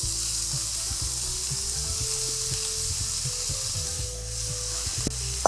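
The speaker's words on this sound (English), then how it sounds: "I'm gonna just brown my beef and throw it right inside." Ground beef browns in a hot pan for a Trinidadian beef pie filling, giving a steady close sizzle and frying hiss with occasional stirring scrapes and taps, no voices.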